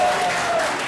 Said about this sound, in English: let's give a round of applause to Joh Sibi Okumu